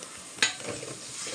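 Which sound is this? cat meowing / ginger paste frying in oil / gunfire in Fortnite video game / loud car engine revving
ginger paste frying in oil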